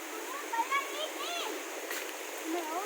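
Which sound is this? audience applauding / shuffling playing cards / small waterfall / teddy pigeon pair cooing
small waterfall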